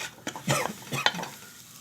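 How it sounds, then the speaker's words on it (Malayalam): Spice powders being stirred in a pan for tomato curry give a few close scraping strokes with a soft sizzle beneath, spaced about every half second. "പൊടിയുടെ പച്ചമണം മാറി വരുന്നത് വരെ ഇളക്കിക്കൊണ്ടിരിക്കുക."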